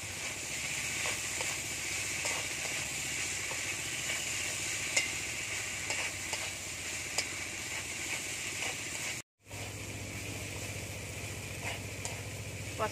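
Prawns with spices sauté in a pan, crackling in a continuous steady sizzle with light stirring scrapes; after a brief cut the sizzle carries on over a low hum.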